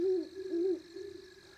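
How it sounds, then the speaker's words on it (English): An owl in southeast Wisconsin hoots twice in close succession, clear and fairly near, and a softer trailing call fades out against a quiet background. "only a couple of them do anything that's like a hoot"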